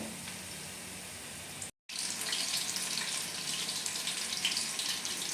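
Steady close hiss of chicken pakora frying in hot oil, broken by a brief silent gap, then continuing evenly.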